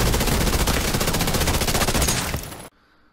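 Rapid automatic gunfire in The Division 2 PvP, a loud dense burst of shots at a fast steady rate that fades and cuts off abruptly into near silence.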